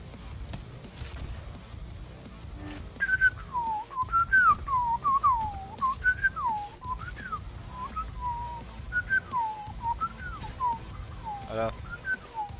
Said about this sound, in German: weil du pfeifst